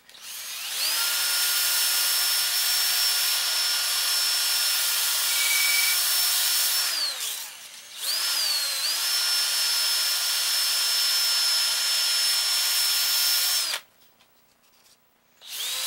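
Sandpaper sanding a SnapBow plunger or trigger part gives a loud, steady high whine in two long runs, with a brief dip between them and a quieter pause near the end.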